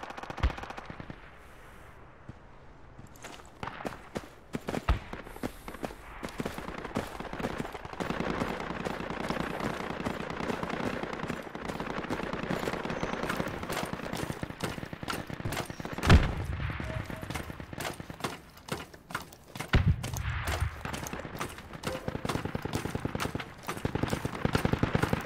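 Sustained automatic gunfire in the military shooter Project Reality, rapid bursts of machine-gun shots rattling on for many seconds with a few heavier booms, loud and dense, broken by brief pauses.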